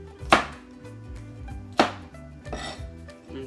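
A knife slicing ingredients on a cutting board: a few spaced, sharp close chops with soft scrapes and a low hum behind them.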